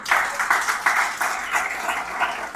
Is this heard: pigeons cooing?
no